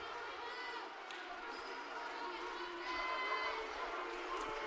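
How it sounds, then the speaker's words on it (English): A loud, packed gym crowd at a women's volleyball match against Georgetown roars with a continuous wash of cheering and chatter, plus the odd ball bounce, while a commentator talks over it. "And the crowd here is loud."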